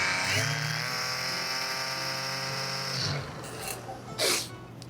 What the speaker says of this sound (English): run it against the pad washer, then lift it up and crank the speed up